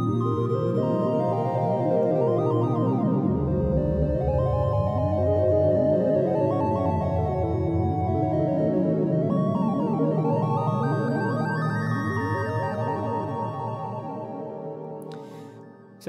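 A SuperCollider synthesizer patch with scale quantization, detuning, glissando and a delay-reverb combination produces overlapping swooping tones that step through a musical scale, a dense, shimmering wash rising and falling continuously before fading out near the end.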